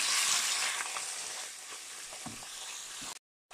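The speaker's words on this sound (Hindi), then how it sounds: "जैसे कि आप देख रहे हैं, मैं इसमें चिकन डाल रहा हूँ।" Chicken mince frying with cumin in a pan: a bright, steady sizzle close up, with light stirring taps over it, ending in a sudden cut to silence before a brief return.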